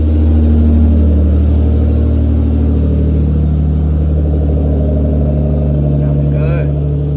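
Car engine fitted with an Injen cold air intake, idling and revving in a loud steady low rumble close by, with a voice talking over it.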